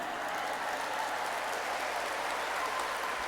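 A steady wash of crowd clapping fills a hall during an Islamic sermon for the Prophet's birthday. It continues evenly throughout, dense and moderately loud, with no clear voice over it.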